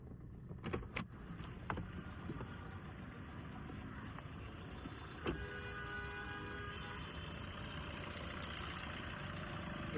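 A 2017 Maruti S-Cross Zeta with a 1.3 litre diesel engine idles quietly and steadily, with a few faint clicks and knocks early on and a low, even hum throughout.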